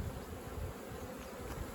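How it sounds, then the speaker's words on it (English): Honeybees buzz steadily and close by as a newborn bee emerges at a native honeybee rescue in Manacor, Mallorca, Spain, a dense continuous insect drone with no talk. "A newborn bee came out of itself for the first time."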